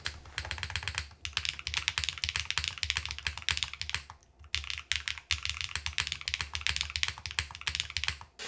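Continuous typing on an Athena 65 gasket-mounted mechanical keyboard, close and crisp, with rapid dense keystrokes and brief pauses, no talk.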